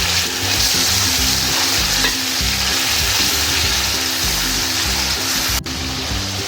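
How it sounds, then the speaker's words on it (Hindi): Spice masala with a little added water frying loudly in a pan for aloo chicken, a constant dense sizzle with stirring, close and steady with no voices. "और इसको अच्छी तरह मसाले को भून लेंगे।"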